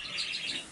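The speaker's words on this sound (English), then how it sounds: "The chirping here is my parakeets." Pet parakeets chirping indoors, a brief burst of bright, high twittering that runs continuously at moderate level for under a second, with no talk.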